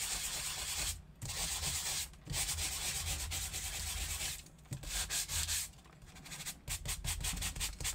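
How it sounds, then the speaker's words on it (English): Steady abrasive rubbing of sandpaper on a sanding block over embossed cardstock, in long strokes broken by brief pauses, close and continuous. "spend some time sanding this off"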